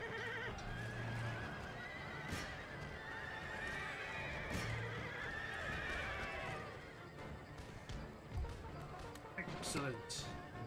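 Galloping hooves and repeated horse whinnies from a cavalry charge in the video game Empire: Total War, with battle noise and a voice talking underneath.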